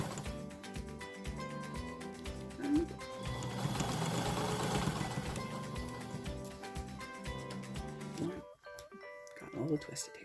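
A domestic sewing machine stitches piping onto upholstery fabric in rapid rhythmic bursts of mechanical chatter, with a short pause near the end and a person talking over the motor.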